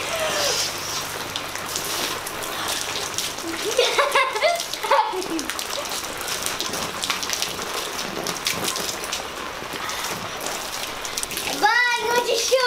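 Steady heavy rain pours down throughout, with a voice speaking and squealing over the downpour.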